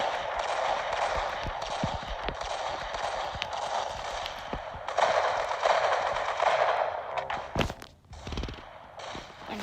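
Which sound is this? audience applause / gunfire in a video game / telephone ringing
gunfire in a video game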